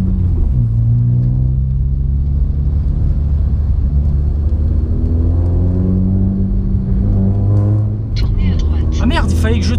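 Heavy Japanese trucks rumble past on a road through an industrial zone, a steady loud engine drone with rising and falling tones as vehicles go by, someone talking over it.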